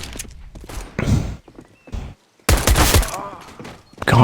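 Bursts of rifle fire from a Counter-Strike match at a professional esports tournament, sharp tapped shots in clusters separated by brief pauses, with faint speech in the background.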